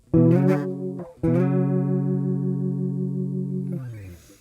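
An electric guitar played through a shimmering chorus effect: a short chord, a brief break, then a long sustained chord with a warm, organ-like wobble.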